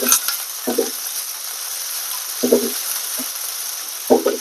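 Chopped onion and garlic fry in a pan with a continuous bright sizzle, broken by three or four short clacks as a spoon stirs and scrapes the mixture, close and fairly loud with no talking.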